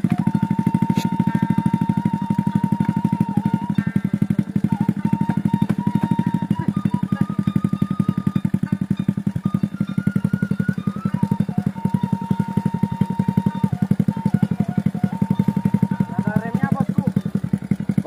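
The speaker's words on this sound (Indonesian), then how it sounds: "motor ini tidak ada remnya bosku" A motorcycle with no brakes, loaded with ten sacks of coconuts, riding along with a loud steady engine drone and rattling clatter that continue throughout.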